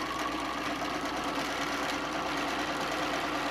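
A sewing machine runs steadily, stitching down a fabric gadget caddy in a continuous, even mechanical whir that holds at moderate volume throughout with no pauses.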